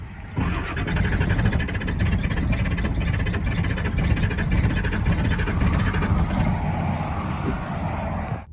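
A kick-started truck engine catches and runs with a loud, rough, steady rumble that holds for several seconds before cutting out.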